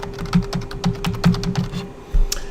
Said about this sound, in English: I can start typing in the name of different components